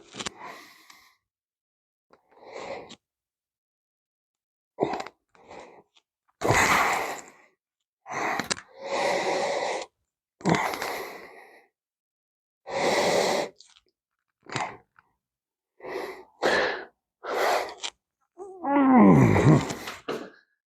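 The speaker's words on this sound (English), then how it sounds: "Take that moment, breathe" A man breathes deeply and slowly, long audible inhales and exhales in a steady sequence of separate breaths with short silent gaps, close and clear, ending in a louder, sighing exhale.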